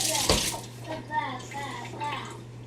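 Running water rinses salted cucumber slices for bread and butter pickles in a sink, a steady close splash and gush with a sharp spray burst early on, while a person talks over it.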